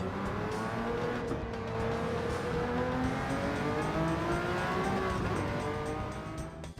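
Jaguar XJR-9 race car engine in Gran Turismo 7, a steady loud high-revving drone with rising and falling pitch through gear changes, continuous and close throughout with no talk.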